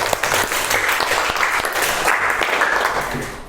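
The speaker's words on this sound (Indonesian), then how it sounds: "Beri tepuk tangan untuk Mas Nizar." Classroom applause for a student, a dense burst of many hands clapping at once, loud and close, continuing steadily before fading slightly at the end.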